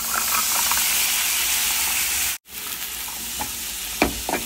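Shravan ghevda beans hit a pan of hot fried masala with garam masala, giving a steady close sizzling hiss with stirring scrapes, briefly cut off midway before the frying resumes.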